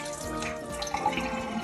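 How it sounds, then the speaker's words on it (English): Water pours and splashes steadily out of a tipped tray into a sink, a close, continuous trickling gush with small drips throughout. "can you see all that water pouring out?"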